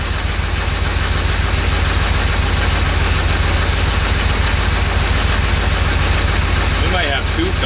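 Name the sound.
Porsche 911 engine idling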